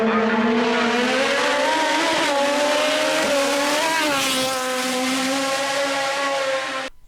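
A race car at the Jankov vŕšok hill climb screams past at full throttle, a loud, sustained engine howl that rises and shifts in pitch as it nears, then fades and cuts off abruptly.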